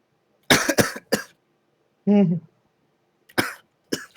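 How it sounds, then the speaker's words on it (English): A few short coughs and throat clearing from a tabletop game player during a session, close and dry, in separate bursts with silent gaps, plus one brief voiced sound in between. "I hear you coughing"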